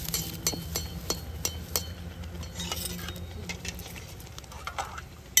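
Pua pitha batter sweetened with date-palm jaggery drops into hot oil, giving a steady low bubbling with scattered sharp crackles and pops over several seconds.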